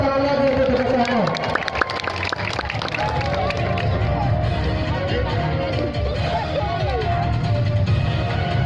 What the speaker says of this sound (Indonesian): Kasih tepuk tangan lagi untuk tugas serangkai.